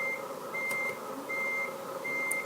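Reversing beeps from a Volvo FH16 truck parking in Euro Truck Simulator 2: a steady, evenly spaced series of clear electronic tones over a constant low engine drone.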